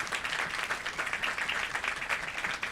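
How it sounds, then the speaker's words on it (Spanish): Sustained applause from an audience at an institutional presentation, dense even clapping from many people at a steady moderate level across the whole stretch. "un fuerte aplauso para ellos, por favor"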